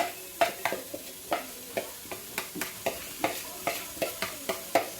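Goat meat sizzles in a hot pot for Jamaican curry goat while a utensil stirs and scrapes in a quick, uneven rhythm of sharp clinks.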